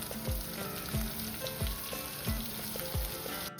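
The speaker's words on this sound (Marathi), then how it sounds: "मस्त परतला की आपण यात कांदा घालणार आहोत" Onion dropped into hot oil in a pan sizzles loudly and steadily, with a regular series of scraping stirs punctuating the crackle every half second or so, alone without voices.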